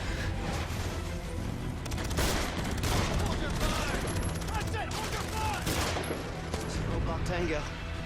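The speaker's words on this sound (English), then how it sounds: "they just kept on shooting regardless" Rapid, sustained bursts of gunfire fill a scene in the video game Beyond: Two Souls, dense volleys of shots overlapping continuously, with a voice talking over them.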